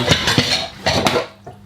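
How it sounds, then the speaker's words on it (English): Pots, pans and cutlery clattering close by while dishes are washed at home, with several sharp clinks and knocks in quick, uneven bursts and a quieter tail, no voices. "Mine is washing the dishes."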